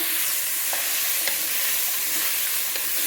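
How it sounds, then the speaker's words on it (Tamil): Vegetables and tomato sautéing in a pot for sambar rice, stirred steadily, giving a continuous soft sizzle with faint scraping stirs throughout and no talking. "வதங்குற வரைக்கும் நம்ம கிண்டிகிட்டே இருக்கு. அடி பிடிக்காம கிண்டிகிட்டே இருக்கு."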